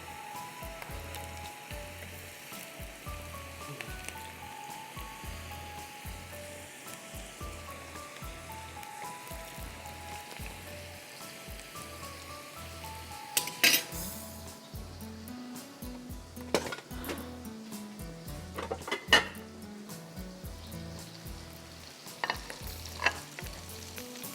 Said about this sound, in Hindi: और फिर ये जो अंडरकट मैरिनेट किया है इसमें हम तेज़ आंच पे इसको हम फ्राई करेंगे।